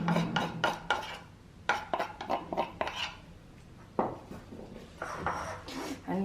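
Wai Wai noodle snack being mixed with tender green leaves in a bowl, giving irregular scraping and clinking knocks of a utensil against the bowl, close and fairly quiet.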